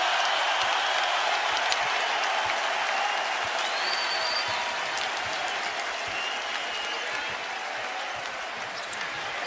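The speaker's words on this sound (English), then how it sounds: "And here comes the crowd to its feet." A basketball arena crowd at a Kentucky versus Tennessee game rises and roars in a dense, sustained wash of cheering and clapping that holds steady throughout, loud and enveloping.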